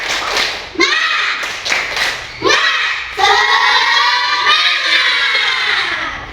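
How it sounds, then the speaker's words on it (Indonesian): Schoolchildren in an Indonesian primary school classroom perform a rhythmic spirit clap, bursts of patterned hand claps mixed with loud group chanting voices, close and energetic throughout. "Tepuk semangat."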